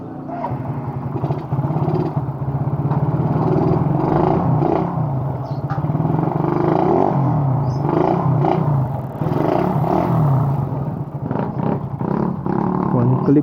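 A used 2010 Suzuki Raider 150 motorcycle, just repaired with a new bendix, runs with a loud, steady, rumbling engine drone close by, lasting without a break.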